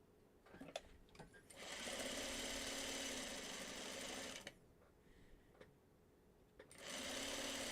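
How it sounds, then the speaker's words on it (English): Sewing machine stitching pieces of a Farmer's Wife quilt block, with two long steady whirring runs of several seconds each, separated by a short pause with small handling clicks. "Okay, then we shall sew this piece on."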